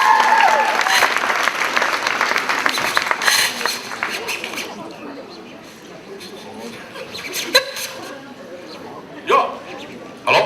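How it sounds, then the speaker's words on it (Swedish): Audience at a KultCon 2015 cosplay contest claps loudly at first, then the applause thins and fades into scattered claps, room noise and a few isolated sharp sounds. "En stor applåd för Elisabeth Ehring!"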